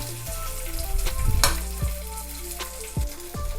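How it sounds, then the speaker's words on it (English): Jamun gnocchi tossed in hot olive oil with rosemary sizzle steadily in a pan, broken by a few soft stirring scrapes and clatters up close. "Now we are going to toss gnocchi with the olive oil and rosemary."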